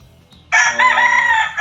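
A battle cock rooster, a three-way cross of White Kelso, Gilmore and Raptor lines, lets out a single loud, close crow after a brief quiet pause.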